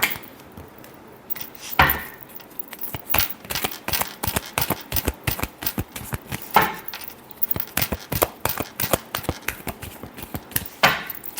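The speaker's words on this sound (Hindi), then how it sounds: "Last shuffle." Tarot cards being shuffled by hand, a long run of quick crisp riffling and slapping strokes in an irregular rhythm, close and fairly loud, with no voices over it.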